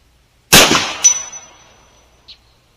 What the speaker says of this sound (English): Okay, we're going to go ahead and shoot anyway.